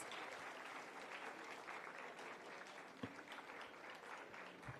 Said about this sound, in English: please give a big round of applause to cheer up the students